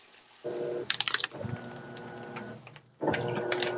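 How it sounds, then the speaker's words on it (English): Home washing machine running during laundry, with a mechanical hum, clicks and water sloshing that start and stop in separate stretches, fairly quiet and close. "Your washer isn't that loud."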